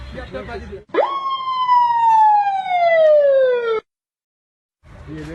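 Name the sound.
man imitating ambulance siren with mouth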